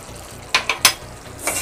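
Chicken frying in a pan with garam masala for a dhaba-style curry, a low sizzle broken by three quick spoon scrapes and a brief louder hiss near the end.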